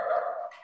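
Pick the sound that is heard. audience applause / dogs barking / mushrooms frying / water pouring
dogs barking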